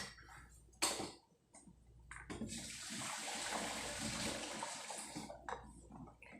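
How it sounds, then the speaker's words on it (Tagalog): Hot water poured into a thermos: a sharp knock and a few clinks, then a steady, hissing stream of pouring liquid lasting a few seconds, close and moderately loud, ending with brief clatters. "Maglilipat ako ng mainit na tubig sa thermos."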